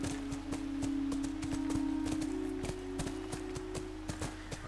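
Horse hooves clip-clop at a steady trot in the video game The Last of Us, evenly spaced and fairly close, over a constant low droning tone.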